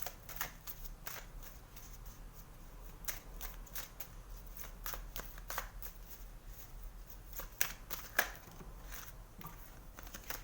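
Tarot cards are shuffled and drawn, giving a quiet run of soft riffling flicks and brief snaps scattered irregularly across the stretch, faint and close against a low steady hum, with no voice.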